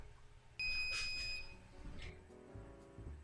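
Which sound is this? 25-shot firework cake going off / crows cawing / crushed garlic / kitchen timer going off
kitchen timer going off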